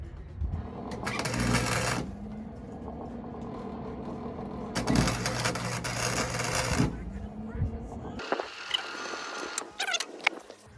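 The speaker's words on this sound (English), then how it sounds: "So now you just fill this up with weld." Welding torch filling a hole during a 6-inch lift install on a 1988-98 2WD Chevrolet C1500 truck, a harsh buzzing crackle in two long bursts separated by a quieter hum, followed by clicks and shuffling.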